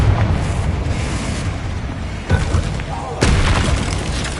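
Booming blasts from a fire explosion spell in the video game Hogwarts Legacy, with loud rumbling low impacts that hit sharply twice amid dense, continuous game noise and a voice calling out spells.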